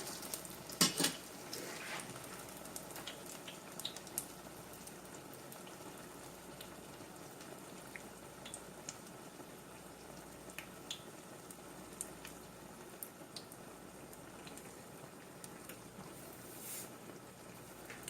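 Batter fritters made without codfish, Puerto Rican bacalaito style, fry in hot oil with a steady close sizzle that runs throughout, a few utensil clinks and pan knocks near the start, and no talking.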